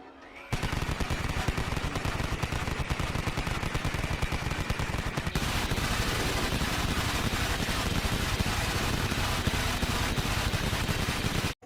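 An M134 minigun, an electrically driven six-barrel rotary machine gun firing 2000 to 6000 rounds a minute, lets off one continuous loud buzzing burst that lasts about eleven seconds without a break.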